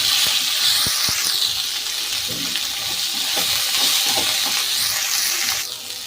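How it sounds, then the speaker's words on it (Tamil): Onion and garlic fry in a pan for egg gravy, a broad continuous hiss with a few scraping clicks, steady and fairly loud. "வெங்காயம் பூண்டு எல்லாம் போட்டு சேர்த்துக்கலாம் வாங்க"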